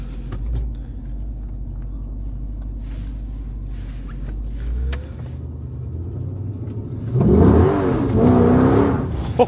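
An SRT8 in track mode pulls away with a low rumbling idle, then the engine revs up hard and accelerates loudly near the end, close and without talk.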